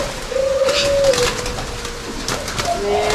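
An albino turtle dove of a multi-coo line coos nearby in soft, repeated hollow notes, loud and clear against a quiet background.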